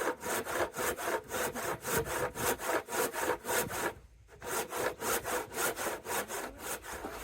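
A hand saw cuts a curve in wood for a driveway gate in quick, rhythmic back-and-forth strokes, close and crisp, with one brief pause in the middle before the steady sawing resumes.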